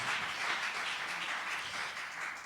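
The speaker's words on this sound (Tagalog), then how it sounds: "Isang buhay na palakpak para sa ating dakilang Diyos na buhay." A church congregation applauds during a preaching service, a dense, continuous wash of many hands clapping that stays even throughout, heard from a moderate distance.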